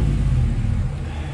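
A Ram 1500 Sport pickup's engine rumbling steadily with an aftermarket Magnaflow exhaust, a loud, continuous low-pitched drone close by with no talking.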